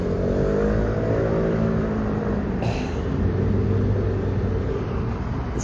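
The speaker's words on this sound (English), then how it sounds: "there's just a lot of traffic here at the moment." A car accelerates in busy Tel Aviv street traffic near Azrieli Mall, its engine rising in pitch over a continuous close rumble of surrounding vehicles, with a brief hiss partway through.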